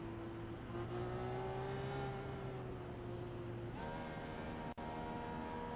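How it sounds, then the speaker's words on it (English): IndyCar race cars warm up in the iRacing simulator at Indianapolis Motor Speedway, producing a continuous droning engine hum that holds steady, then shifts pitch partway through, with a brief dropout near the end and no speech. "So kind of see these cars getting warmed up here."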